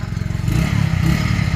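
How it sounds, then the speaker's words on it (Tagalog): A motorcycle engine runs close by, with a rough, pulsing low throb that grows louder and fuller partway through as it revs, sputtering unevenly over a short stretch. "Papaandar na si Prince Vlogger ng kanyang motor."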